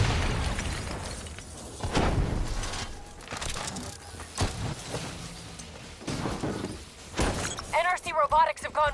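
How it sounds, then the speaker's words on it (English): Robots detonate in a series of booming blasts during Call of Duty Black Ops 3 gameplay, with loud bursts near the start and middle, crackling debris, and a sharp electronic warble near the end, over a background of game voices. "They're about to detonate!"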